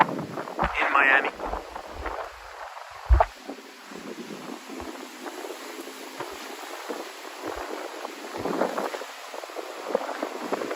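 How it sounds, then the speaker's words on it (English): Gusty wind buffets the microphone on a very windy night in Miami, low rumbling bursts that swell and fade under someone talking throughout. "on this insanely windy night in Miami."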